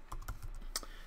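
A handful of quick keystrokes taps on a computer keyboard as a word is typed, soft and close in a quiet room.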